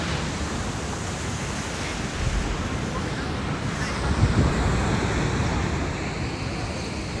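Sea waves break at the shore at dawn, a continuous wide surf roar with gusty wind on the microphone and a slight swell toward the end, with no voices.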